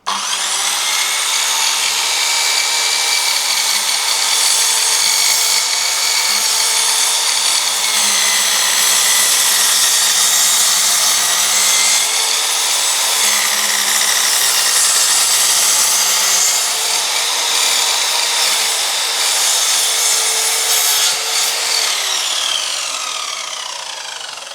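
An Einhell radial saw cuts through a thick section of wood, giving a loud, continuous high-pitched whine and grinding rasp that holds for over twenty seconds before tapering off at the end.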